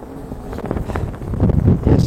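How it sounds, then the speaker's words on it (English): Strong wind buffets the microphone outdoors at a park, a loud continuous rumbling roar with gusty surges that builds toward the end. No talk is heard. "It's extremely windy today."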